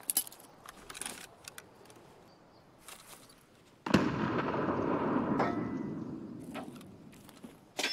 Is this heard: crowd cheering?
no